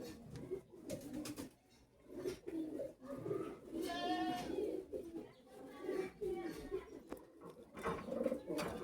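Red-eye high-flyer pigeons coo indoors in repeated soft, throaty rolling calls, close by and overlapping, with faint rustles and a little background talk.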